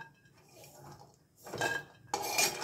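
Roasted cashew nuts being moved onto a metal plate, with faint scraping and then two brighter bursts of metallic clinking and clattering.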